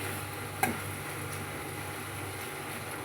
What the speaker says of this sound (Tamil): இப்போ கத்திரிக்காயை நம்ம கிளறி விட்டு மறுபடியும் மூடி வச்சுக்கலாங்க